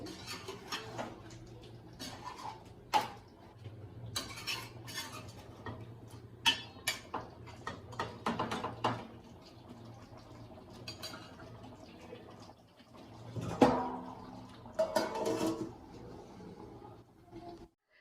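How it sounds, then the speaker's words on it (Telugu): A spoon stirring chicken in a pot while chicken dum biryani cooks, with irregular clinks and scrapes against metal over a soft steady background hum, a louder cluster of scraping near the end. "చికెన్ మధ్య మధ్యలో కలుపుకోవాలి ఇలా కలుపుతూ ఉంటే మా అడుగు పట్టకుండా ఉంటుంది"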